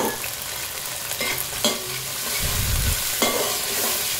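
Spring onions, carrots and peas being stir-fried in hot oil for chicken fried rice, a steady sizzle with scraping spatula strokes and a brief louder burst near the middle, close and alone.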